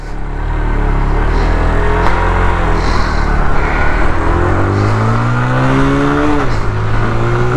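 A TVS Apache RTR 160 2V motorcycle accelerating hard in sport mode, its engine note climbing steadily through the gears with a brief dip at a shift, loud and close throughout.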